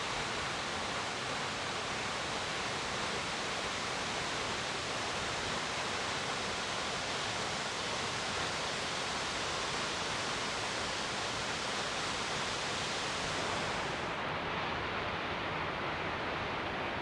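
Waterfall on the Putorana Plateau, a steady broadband roar of falling water that holds loud and unbroken throughout, with no voices.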